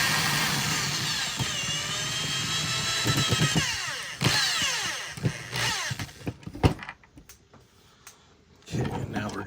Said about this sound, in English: And we're going to use the drill.